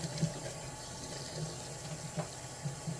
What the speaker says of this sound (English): We're going to put this in the water, submerge it.